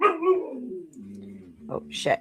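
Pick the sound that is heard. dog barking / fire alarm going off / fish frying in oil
dog barking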